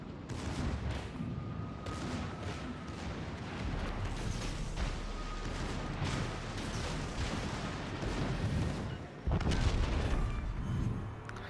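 Enemy guns in a video game fire a dense, continuous barrage of booming, artillery-like blasts, loud and close throughout with no talk.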